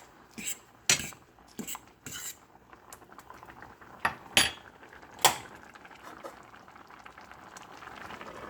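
Curry chicken and rice mixed together bubble in a pot, with a steady soft simmer broken by sharp clinks and knocks of utensils against cookware at irregular intervals.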